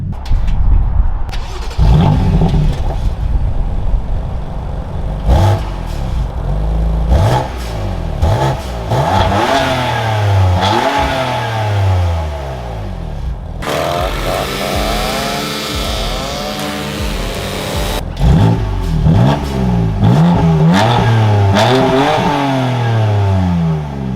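A BMW M4 Competition with an AWE SwitchPath exhaust revs hard again and again, loud and close, rising and falling in sharp sweeps with crackling, plus a longer sustained high rev near the middle.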